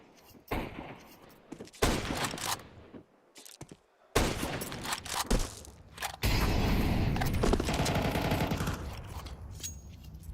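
Bursts of rapid gunfire from a Counter-Strike match, firing through smoke during a BLAST Premier game, coming in separate loud volleys with short gaps and ending in a long sustained barrage.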